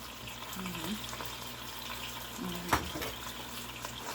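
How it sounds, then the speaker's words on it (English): Spinach and diced tomatoes cooking down in a little butter in a pan, giving a quiet, steady sizzle with occasional stirring and clinks of a utensil against the cookware. "And I'm letting all that cook down, only in a little butter."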